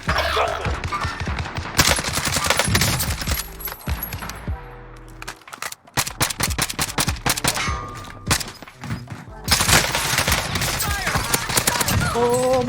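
Gunfire rattles through a Call of Duty Warzone match with AK and SMG weapons, dense automatic bursts and single shots, loud and close, broken by brief lulls, with a player speaking now and then.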